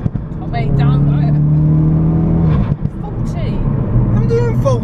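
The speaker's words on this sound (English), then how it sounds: "What do you think of the new exhaust, mum?" A Ford Focus RS engine with an Armytrix exhaust revs and drones loudly up close, its exhaust note rising and falling, with voices talking over it.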